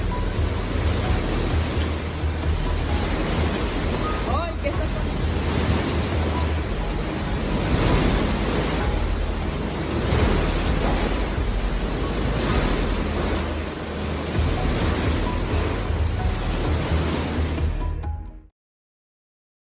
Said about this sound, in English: When the tremors began, the water began to shake. A minute later, huge waves were walking around the entire pool area.